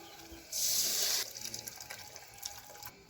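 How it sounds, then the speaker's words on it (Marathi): Salted water is poured into mutton masala cooking over a wood-fired clay stove, a brief loud gushing pour lasting under a second, followed by softer bubbling and splashing. "मिठाचं पाणी यात ओतून घेतलं."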